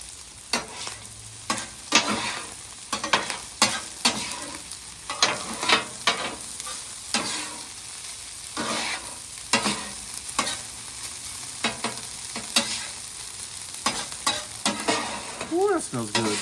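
Garlic and butter fry on a hibachi griddle, the steady sizzle broken by frequent sharp scrapes and clanks of a spatula stirring across the metal surface, close and loud, with no talking.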